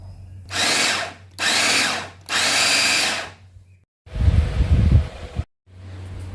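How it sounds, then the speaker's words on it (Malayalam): An electric food chopper cutting papaya whirs in three loud bursts of about a second each, then a rougher, deeper grinding burst as the fruit is chopped, with short pauses between runs. "പപ്പയ ഇടാം കട്ടറിലിട്ട് നല്ലതുപോലെ കട്ട് ചെയ്തെടുത്തു"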